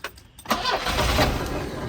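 An abandoned blue Volvo 242 sprayed with starting fluid in the intake cranks briefly, then catches and roars to life, its engine running loud and rough close by.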